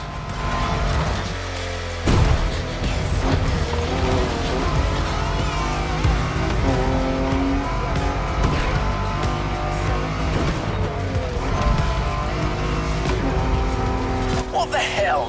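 A car tearing off-road in The Crew Motorfest, its engine roaring steadily for the whole stretch with thumps and a sharp jolt near the start, under someone talking and background game music.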